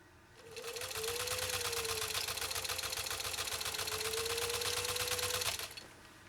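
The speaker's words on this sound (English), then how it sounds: "So let's see how Tony's machine holds up to this. I'll sew the first line longer, the second line shorter." A Singer 15-91 sewing machine stitches through thick elk hide in a steady, rapid mechanical run, loud and close, starting up after a moment and stopping abruptly near the end.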